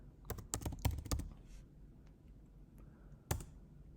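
Keys on a computer keyboard clack in a quick burst of several close, crisp taps, then fall quiet before one more sharp keystroke.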